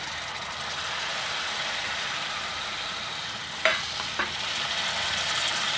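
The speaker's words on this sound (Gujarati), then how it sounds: "હવે આપણે આ ટમેટાની ખમણેલા નાખી દઈએ" Grated tomatoes hit hot oil in a frying pan with a broad, steady sizzle, interrupted by a couple of brief clinks or stirring knocks partway through.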